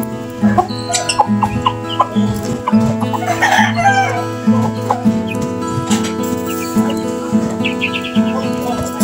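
Silkie chickens clucking busily at morning feeding, close and loud with repeated short calls and a crow-like call, over a steady background hum.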